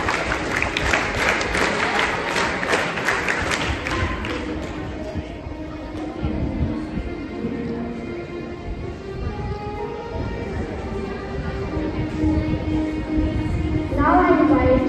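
A school investiture ceremony audience performs a scout clap, a burst of rhythmic claps at the start that gives way to hall ambience and murmuring, with a louder stir near the end.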